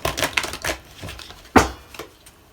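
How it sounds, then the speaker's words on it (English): Tarot cards being shuffled by hand in several quick riffling bursts, with a sharper slap near the middle, fairly close and alone without talk. "Just shuffling these cards right now"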